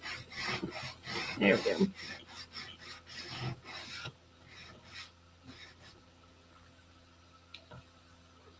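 Hand sanding on a wooden craft piece, rapid rough rasping strokes for about four seconds, then a few scattered rubs and handling noises, with a brief spoken comment.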